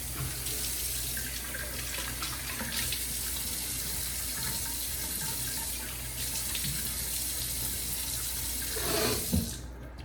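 Tap water runs steadily into a bathroom sink while a face is wetted before a shave with an Iwasaki kamisori razor, a close, continuous splashing stream with a brief louder splash near the end.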